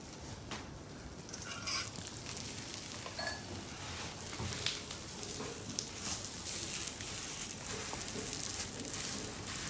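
A lachha paratha frying in ghee on a pan over low heat, giving a steady, soft crackling sizzle close by with small pops throughout and no talking.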